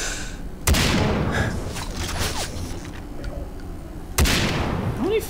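Heavy BMG rifle rounds fire in Far Cry 3: Blood Dragon, two loud booming shots a few seconds apart over a dense, noisy game battle background.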